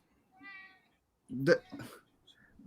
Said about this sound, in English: Even the cat agreed.